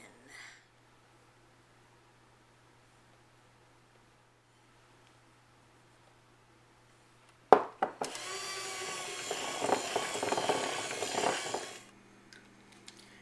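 An electric mixer starts after a long quiet stretch, beating powdered sugar into a strawberry cheesecake cupcake mixture with a loud whirring rattle for about four seconds before stopping.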